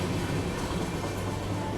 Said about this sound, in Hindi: ये जो ट्रेन जा रही है ना वीरांगना लक्ष्मीबाई बांद्रा कोलकाता